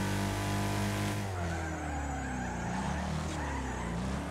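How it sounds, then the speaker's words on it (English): Brakes squeal on a car in the Wreckfest racing game, a steady high whine over loud engine drone and tire skidding, with engine pitch sweeping as the car slows and accelerates through corners. "Ooh, my brakes are squeaking."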